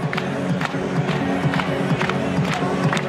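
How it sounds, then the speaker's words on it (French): Spectators at a soapbox cart race in Vienna, Austria, applaud and cheer as a steady crowd roar with scattered clapping, mixed with rolling wheel rumble and music underneath, fairly loud throughout. "Les applaudissements du public nombreux aujourd'hui à Vienne, en Autriche."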